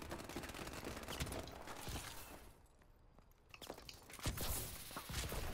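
Gunfire in the video game Call of Duty Advanced Warfare: bursts of rapid shots crackle through a busy, noisy mix, dropping away briefly before another sharp volley and more shooting return.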